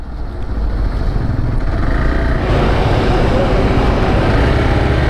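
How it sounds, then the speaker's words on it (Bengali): Steady traffic-jam din on the Chandigarh–Manali highway, heard from a moving motorbike: a loud, continuous engine and road roar with rushing wind, thickening midway, with faint voices underneath. "এখানে আবার ট্রাফিক জ্যাম"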